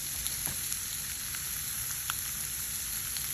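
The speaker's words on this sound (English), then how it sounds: "now that we have our chicken in the grill pan grilling and getting all happy with the spices" Spiced chicken sizzles quietly in a grill pan, a soft, steady crackle with an occasional louder pop and no talking.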